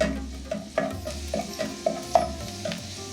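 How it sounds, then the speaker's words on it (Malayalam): Five large garlic cloves, thinly sliced lengthwise, sizzle in hot oil for a Kerala-style lemon curry, with a steady crackle broken by regular spoon scrapes and taps as they are stirred. "ഇതിലേക്ക് ഞാൻ ആദ്യം വെളുത്തുള്ളി ഇടുകയാണ്."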